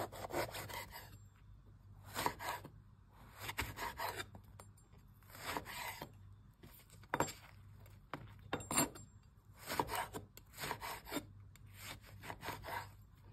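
A very sharp knife slices through thick-skinned white eggplant in a series of crisp, rasping cuts, about a dozen evenly spaced strokes heard close up with quiet gaps between them.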